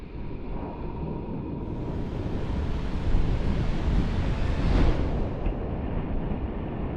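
Ocean surf and wind on the Pacific coast of Siargao Island, General Luna: a steady, loud wash of breaking waves mixed with microphone wind buffeting, swelling slightly mid-way, with no voices.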